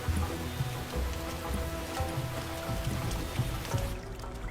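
Rain falls in a steady, close patter of drops on surfaces, continuous and even, with no one speaking.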